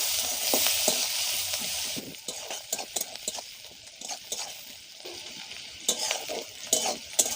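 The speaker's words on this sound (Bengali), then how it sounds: "1/2 চামচ কালো জিরে আর একটা গোটা পেঁয়াজ দিয়ে একটু ভেজে নেব হালকা করে" Black cumin seeds and a whole onion frying lightly in oil, making a soft continuous sizzle. Scattered clinks and taps of a utensil against the pan come through close by, with no speech.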